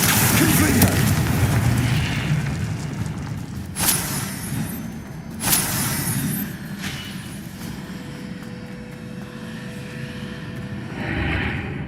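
Confringo blasting spells explode in Hogwarts Legacy, two sharp booms standing out over a loud, continuous rumble of game effects and ambience.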